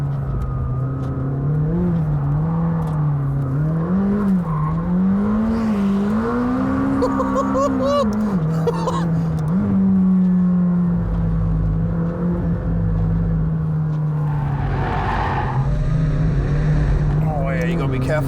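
A McLaren sports car engine pulls hard under turbo boost, its drone rising and falling steadily with revs through a continuous run, loud and close from inside the cabin, with a voice talking over it.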